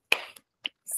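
Children perform the 'tepuk salut' clap in a classroom, a short burst of sharp claps and slaps spaced across about a second, close and crisp with a soft voiced sound at the end.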